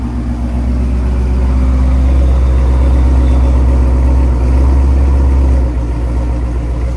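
A 2015 Ford Mustang GT V8 with headers and Corsa Xtreme exhaust idles with a deep, steady, low rumbling burble, loud and close, holding constant before easing slightly near the end.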